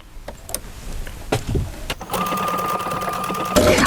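A sewing machine stitches decorative thread, first in short bursts and then in a steady, fast run of close, loud stitching with a mechanical whir.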